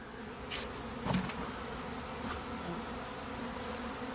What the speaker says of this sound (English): this swarm here looks to be, I hope, moving into my log